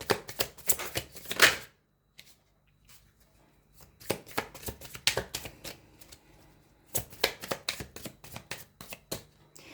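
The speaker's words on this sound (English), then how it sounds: "I'm going to pull 2 more cards." Tarot cards are shuffled and pulled by hand in close, crisp bursts of riffling and slapping, with a long quiet pause after the first burst before the rapid card sounds resume.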